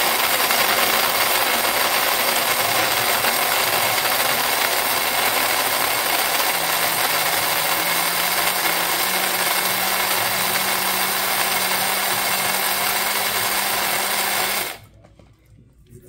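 Dried, sun-baked eggshells are ground up for homemade plant fertilizer, giving a loud, steady mechanical whirring and grinding that runs without a break for about fifteen seconds, then stops suddenly, leaving near silence.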